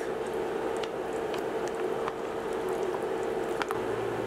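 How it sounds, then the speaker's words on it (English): A pot of seafood chowder gets stirred, producing soft wet squelching and faint spoon clicks over a steady low hum, close and fairly quiet. "I'm gonna give it a stir for a bit."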